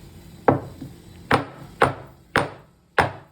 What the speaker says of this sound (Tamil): நம்மளோட இஞ்சி கொஞ்சம் நம்ம தட்டி எடுத்துக்கலாம்